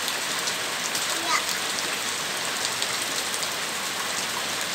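Steady rain falls outdoors while a child plays in it, a dense continuous patter of drops on surfaces close by, with a faint brief voice in the background.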